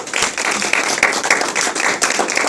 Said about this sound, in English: Give him a nice big applause.